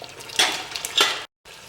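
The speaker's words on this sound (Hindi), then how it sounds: "इसे अच्छा भून लेंगे हम" Mutton is fried down with spices in a pan, with two bursts of sizzling and stirring scrapes, close and alone, then a brief cut to silence before the sizzle resumes quietly.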